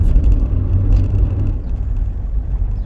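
A Rover 25 GSi with a 1.4 engine and unrestricted throttle body pulls hard under acceleration, a steady close engine rumble and road roar heard from inside the car.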